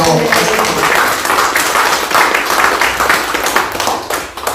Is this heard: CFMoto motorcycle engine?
no